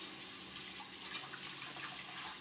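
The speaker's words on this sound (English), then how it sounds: "We have to put the dishes in the sink, and we turn the water on." Tap water runs steadily into a kitchen sink full of dirty dishes, a continuous close hiss and splash with no talking over it.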